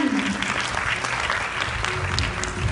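Audience applause welcoming a speaker at a Nu Skin business event, dense, continuous clapping from a large crowd that stays loud and even throughout, with a voice faintly heard beneath it.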